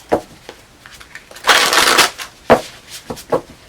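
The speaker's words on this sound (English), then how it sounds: "I'm going to do one more shuffle." Tarot cards riffle and flutter in short bursts, one longer shuffle in the middle, close and crisp.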